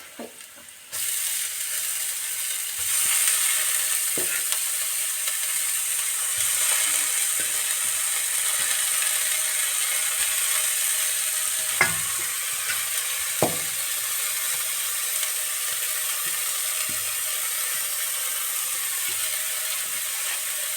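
Spinach is stir-fried in a pan for Kerala thoran, a steady close sizzle with scattered clicks and scrapes of the spoon against the pan.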